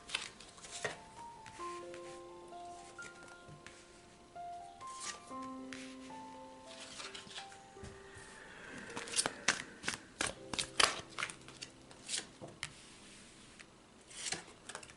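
Tarot cards laid out for a reading, with soft close shuffling, slapping and sliding of cards in scattered bursts, quiet and unhurried, under faint background music tones.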